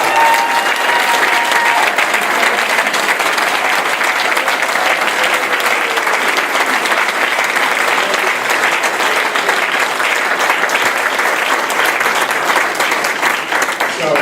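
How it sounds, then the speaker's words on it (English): Sustained, loud applause from an audience at a foundation celebration, honoring the ten ladies of a committee; dense, steady clapping fills the room without letup for the full length. "if they could just raise their hands so we could give them a round of applause"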